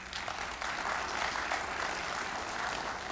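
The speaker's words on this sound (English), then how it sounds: "Let's have a round of applause for them and their comments today." An audience in a chamber event hall applauding guests who spoke on stage, steady, even clapping from many hands that holds at moderate loudness throughout.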